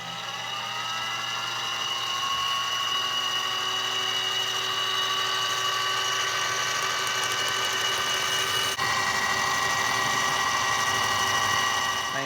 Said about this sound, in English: I'm going to take a 1/2 inch end mill through here and just clean it up a little bit